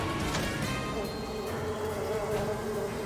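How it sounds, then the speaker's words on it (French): Cartoon bees buzz in a steady, dense drone that fills the whole stretch at an even loudness, with no voices over it. "Des abeilles!"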